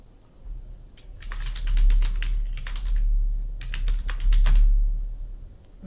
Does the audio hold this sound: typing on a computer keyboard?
yes